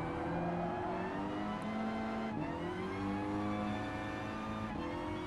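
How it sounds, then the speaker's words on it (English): Race car in Gran Turismo Sport with its engine and gearbox grinding, a steady, loud, harmonically rich engine drone heard from inside, shifting pitch briefly twice as it revs on. "What's it doing? Grinding up the entire gearbox."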